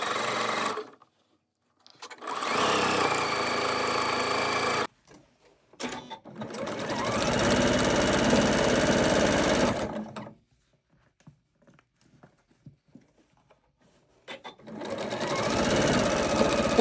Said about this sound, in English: I go along and just continue to sew those rows together until each block is completed